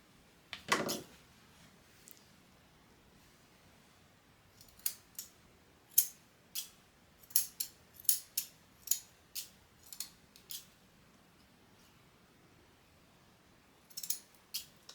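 Bonika Big Red grooming scissors snip through paper towel in a quick series of crisp, close metallic cuts, one sharper snip early on, then a steady run of clicks after a brief pause.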